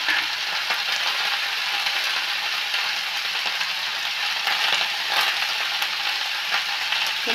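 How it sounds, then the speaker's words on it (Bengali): A pan of potatoes and onion stalks crackles and sizzles steadily up close, with occasional soft clicks of stirring and no voices. "এটা আমি একটু ভাজা ভাজা করছি।"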